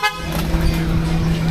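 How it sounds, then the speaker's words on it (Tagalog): A loud, steady vehicle horn blares continuously at a motorcycle clearance sale, holding one sustained tone close by with crowd and traffic noise underneath. "Loud horn."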